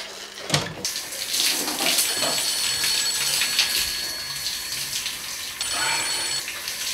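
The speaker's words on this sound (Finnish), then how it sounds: "Ei kun mä olen suihkussa." Shower water runs steadily as a broad, continuous hiss close to the microphone, with a brief knock near the start, a faint ringing tone and small shifts in the spray.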